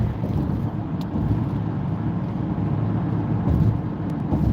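A car cruises at about 60 mph on a busy highway, producing a steady low rumble of road and wind noise inside the cabin without pauses, and no one speaks.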